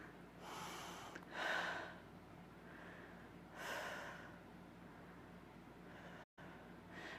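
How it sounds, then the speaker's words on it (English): Breathing during a seated yoga twist, with three or four slow, audible breaths drawn in and out close by, quiet between each and no one talking. "Look away. And breathe."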